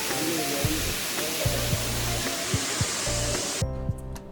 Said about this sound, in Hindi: वाटरफॉल देखने को मिलता है।